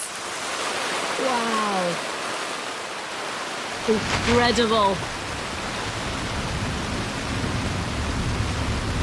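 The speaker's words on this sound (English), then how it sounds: "we're stuck undercover too, until this downpour passes" Heavy downpour in the Pantanal, a dense, loud hiss of rain falling on cover and vegetation throughout, with brief calls or voices rising over it midway.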